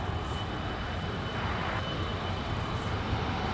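A Cathay Pacific airliner at LAX bound for Hong Kong, its engines giving a steady, distant low roar that holds evenly throughout.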